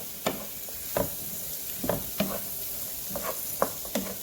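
Tomato cooks in a pan for keto chicken chipotle, giving a soft continuous sizzle punctuated by about eight sharp scraping stirs at irregular intervals, with no voices.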